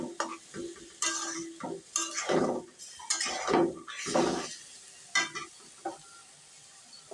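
Soybean curry stirred and fried over a low flame, heard as repeated scraping strokes of a spoon against the pan with soft clinks and a light sizzle, close by and without any voice.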